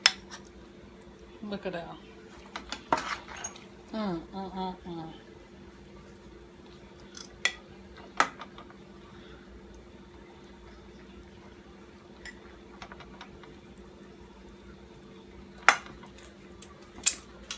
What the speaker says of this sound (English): Let me dish up y'all some of this goodness.